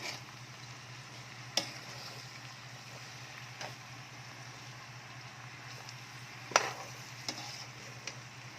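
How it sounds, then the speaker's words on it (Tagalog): Sautéed bottle gourd with ground meat is stirred in a pan over a steady low sizzle, with a few scattered scrapes and clinks of the utensil, all faint and without talk. "Haluin na natin yan."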